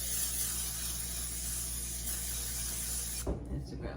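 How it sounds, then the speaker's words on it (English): Cooking spray hisses into a glass mixing bowl, a continuous broad hiss held for about three seconds before cutting off with a faint clatter, close up. "I have a glass bowl here, and what we're gonna do is we're gonna spray this really good."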